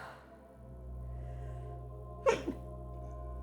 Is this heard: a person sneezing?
yes